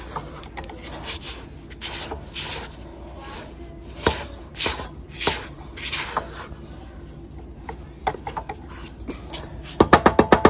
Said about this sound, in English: Make sure we scrape down our sides.